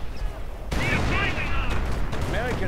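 Artillery and machine-gun fire in a WWII-style real-time strategy game, a dense rumble of explosions and rapid shots throughout, loud and close, with a voice talking over the battle.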